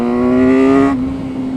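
A car engine revs loudly through a stubby exhaust, holding a steady, buzzing drone close up before the pitch drops slightly and settles into a lower hum.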